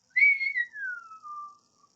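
A person imitates a long, low falling whistle with their mouth, sliding steadily downward in pitch for over a second before trailing off, close and clear in a quiet room.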